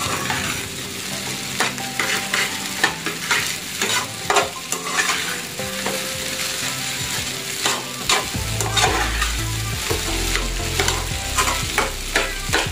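Indonesian nasi goreng bakso fried rice stirred in a pan over high heat, with steady sizzling frying and repeated scraping and clinking strokes of the utensil, close and continuous, with a low rumble joining partway through.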